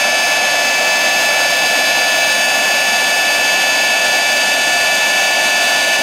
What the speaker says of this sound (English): Okay, I'm going to hit this with my heat tool.